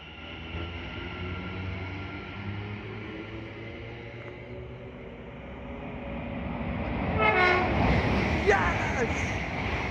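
A London Northwestern Railway train pulls out of a station platform, a steady low rumble of wheels and engine building and growing louder near the end, with a brief horn-like tone over the top.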